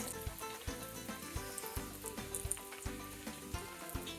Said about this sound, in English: all we're going to do is fry these on both sides until they're golden brown